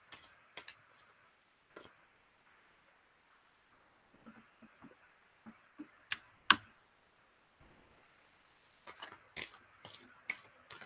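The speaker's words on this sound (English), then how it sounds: "I'm just going to sit here and shuffle my shuffle the minor arcana separately from the major arcana" Tarot cards from a Labyrinth Tarot deck, minor arcana shuffled apart from the major arcana, give soft intermittent riffles and taps close by, in scattered bursts with quiet gaps between them.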